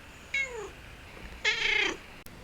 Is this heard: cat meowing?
yes